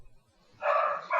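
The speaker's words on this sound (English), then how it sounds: "I apologize if you hear my dogs barking in the background." Dogs barking indoors in the background, two loud bursts of barking and yipping close together after a quiet start.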